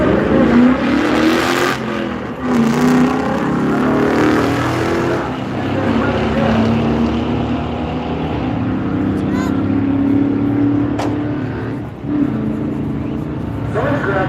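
Drag race cars launching at a Duct Tape Drags beater event, including an LS-swapped car running down the far lane, engines roaring loudly and continuously with shifts and crowd or announcer voices mixed in.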